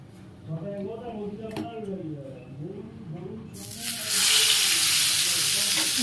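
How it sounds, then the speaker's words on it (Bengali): Someone talks quietly at first, then a loud, broad sizzle of tilapia fish frying in oil bursts in and continues steadily, close up. "দেখো এখন তেলাপিয়া মাছ ভাজা করব"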